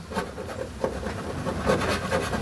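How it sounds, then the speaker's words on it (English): A scraper rubs and rasps across a Mazda RX7 car floor, lifting old sound deadening in steady, close scratching strokes with no talk. "you just get your little scraper or whatever you're using, just gently"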